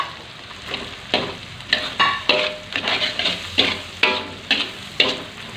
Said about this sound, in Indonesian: kalau udah agak wangi-wangi, cabenya udah kelihatan mateng, masukin petenya